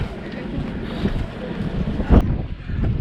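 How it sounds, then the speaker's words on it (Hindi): Boat engine running on Chilika lake, a steady low rumble with wind buffeting the microphone throughout and a brief thump near the end. "ये बोट का इंजन है, ये इसका हैंडल है।"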